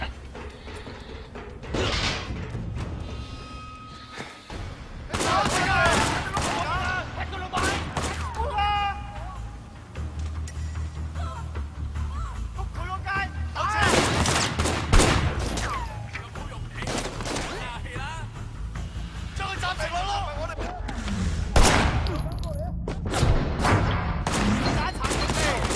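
Player's gunfire in Sleeping Dogs, a burst of loud gunshots cracking repeatedly over game noise and clanking mechanisms, with someone talking excitedly between and over the shots.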